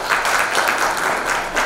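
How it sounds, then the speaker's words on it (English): Steady applause from an audience at an India Corporate T20 Bash cricket event, loud and continuous, with a dense wash of many hands clapping throughout. "A round of applause"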